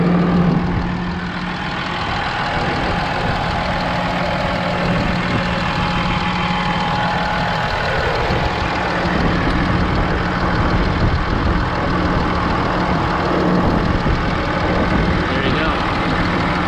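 A 2014 Ram diesel 4x4 pickup with a manual transmission idles under an open hood, a steady close rumble with a faint knocking clatter, while people talk over it.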